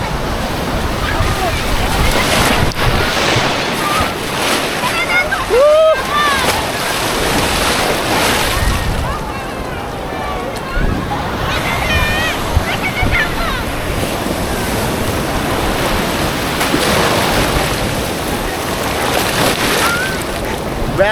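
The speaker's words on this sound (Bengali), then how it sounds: "বেলা যত বেড়েছে বলো তত বাড়ছে আর ঢেউ তত বাড়ছে একই সাথে।" Sea waves rolling onto the beach at Puri in broad daylight, a steady wash of surf with wind buffeting the microphone, continuous and loud throughout, with a brief whistle-like tone early on.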